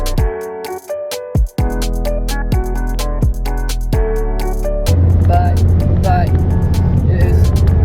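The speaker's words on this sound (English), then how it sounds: "There's our misfire." A car engine runs loudly with uneven, stuttering pulses and sharp pops, as if misfiring, then settles into a steady rumble as the vehicle keeps driving.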